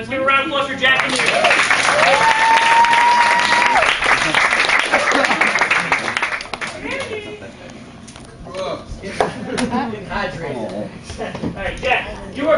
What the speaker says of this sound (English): Let's give a round of applause for Jack and you.